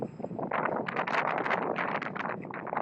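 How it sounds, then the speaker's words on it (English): Gusts of wind buffet the microphone in uneven bursts at night on the deck of a cruise ship, a rough rumbling flutter rising and falling over a few seconds. "It's very windy here, guys, so I apologize."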